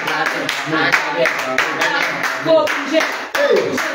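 A worshipping congregation claps in a steady rhythm during a French-language home prayer meeting, with a voice talking over the claps.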